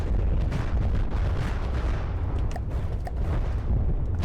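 A full salvo of missiles firing in the video game From the Depths, a dense continuous rumble of launches and booming blasts with sharper pops scattered through, loud and unbroken.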